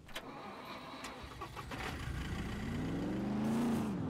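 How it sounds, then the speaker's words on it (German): Car engine starting in the video game SCUM, a cranking churn that catches and rises into a steady idle with a climbing rev, fairly faint and alone. "Ich finde das Anmachen vom Auto"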